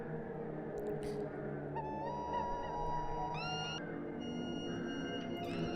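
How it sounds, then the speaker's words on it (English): Bird-like squawks and warbling cries from an album, distant calls rising and sliding in pitch over a dark, sustained musical backdrop. "It's like squawking of birds as well in the distance"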